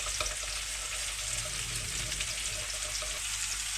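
Dijon mustard, cold water, pepper and salt are stirred together into a sauce, a steady wet swishing and clinking rasp close by, continuous and fairly quiet with no voice over it.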